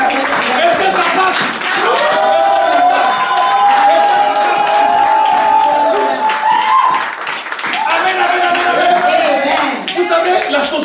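A church congregation claps and cheers loudly for the Lord, a dense sustained wave of applause and shouting with a voice calling out over it, dipping briefly before swelling again.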